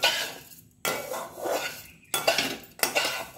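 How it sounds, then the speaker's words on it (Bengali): A spoon scrapes grated coconut around a wok on low flame for sugar coconut sweets, giving four close, rhythmic metallic stirring strokes separated by short pauses. "লো ফ্লেমে দিয়ে আস্তে আস্তে এইভাবে নেড়ে যেতে হবে"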